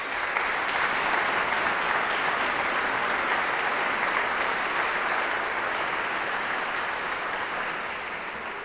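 A concert audience at a singing competition finals applauding warmly, a dense sustained clapping that tapers slightly toward the end, no talking.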